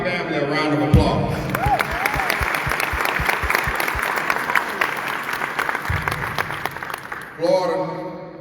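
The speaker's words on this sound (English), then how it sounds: "Please give my family a round of applause." Audience at a military ceremony during a grand session applauds steadily for several seconds, a dense wash of clapping with a voice heard at the start and again as it fades.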